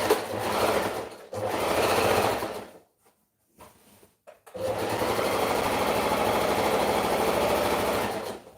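Sewing machine stitching African print fabric, running in two steady bursts, then a short pause with a few faint clicks, then a long continuous run, close and loud with no talking.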